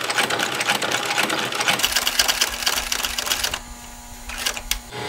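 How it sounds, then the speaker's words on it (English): A heavy-duty sewing machine stitches a leather holster with a rapid, loud mechanical chatter, its steady motor hum running beneath the clattering needle strokes before the machine slows and stops near the end. "The needle then sews up through the hole from below, catches the thread in its hook, takes it down and locks the stitch."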